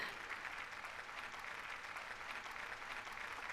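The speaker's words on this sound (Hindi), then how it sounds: "तालियों के साथ स्वागत करें" Steady applause from an audience, a dense even patter of many hands clapping throughout, moderately quiet and distant.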